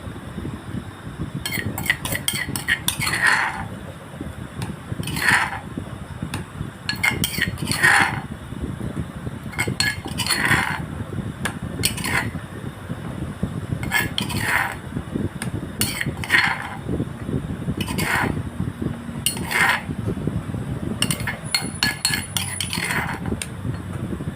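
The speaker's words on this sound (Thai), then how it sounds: "ตักใส่แค่น้ำจิ้ม" Spoon scooping dipping sauce for boiled chicken breast, with utensils clinking against dishes in repeated bright clinks and scrapes every couple of seconds over a steady low background hum.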